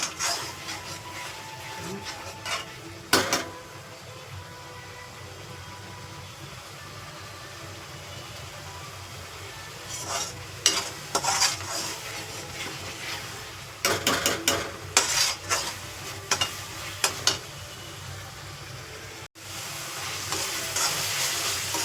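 Tomatoes sautéed in a pan for chole bhature, a quiet steady sizzle punctuated by several bursts of louder frying and scraping as the mixture is stirred, with a sharp clatter near the end.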